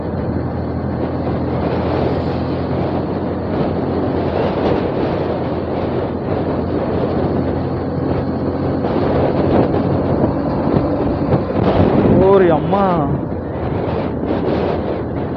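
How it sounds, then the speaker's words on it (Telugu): Strong wind roars and buffets a microphone while riding a motorbike at speed, continuous and loud, with a brief exclamation from a person near the end. "ఇటు ఫుల్ గాలి కొట్టింది"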